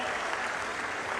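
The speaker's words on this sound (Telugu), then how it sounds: "మీరందరూ చేస్తామని గట్టిగా చప్పట్లు కొట్టి హర్షాన్ని" Dense, steady applause from a large crowd at a public cleanliness campaign event attended by the chief minister, a brief continuous wash of clapping at moderate volume with faint voices mixed in.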